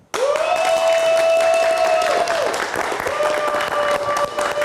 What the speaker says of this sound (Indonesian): Kita berikan tepuk tangan sekali lagi untuk penampilan dari Mas Kamal dan juga Bang Saud.